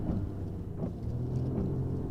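A car on a country road slows to a stop, its engine giving a steady low rumble close by, with no voices.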